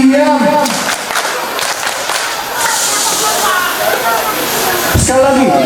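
A crowd at a mosque groundbreaking and santri house opening plays a clapping game, bursts of clapping and shouting mixing with loud voices, breaking into cheers near the end.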